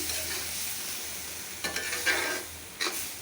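Brain masala stir-fried in oil, a soft steady sizzle with a few scraping stirs of a spoon against the pan near the end, close and fairly quiet, no voices.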